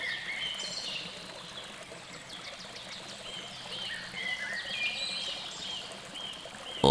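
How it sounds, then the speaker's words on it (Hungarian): Mountain stream rushing down a valley, a steady broadband wash of flowing water with a light trickling texture, continuous throughout, with faint bird calls chirping over it. "A hegyvidékek völgyeiben lerohanó patakok vize előbb-utóbb a Dunában köt ki."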